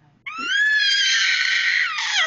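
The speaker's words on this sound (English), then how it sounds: "He has the most high-pitched scream" A toddler lets out one long, piercing high-pitched scream during a first haircut, loud and sustained for about two seconds before trailing off.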